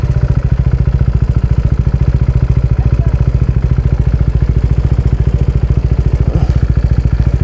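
A motorcycle engine thumps close and loud in a fast, perfectly regular beat, holding a steady idle throughout with a light mechanical clatter over it.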